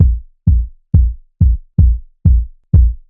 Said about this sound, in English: That is starting to sound like a legitimate sub bass for a kick.